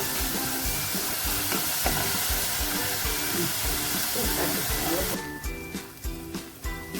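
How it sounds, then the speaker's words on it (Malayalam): Onions sauté in hot oil for a Kerala-style fish curry, a dense, steady sizzle with faint stirring scrapes and a voice over it, until the hiss cuts off sharply near the end, leaving a few stirring knocks. "ഞാനിപ്പോൾ അത് മറന്നു പോയതുകൊണ്ട് ഈ എണ്ണയിലിട്ട് ഒന്ന് വഴറ്റിയാണ്"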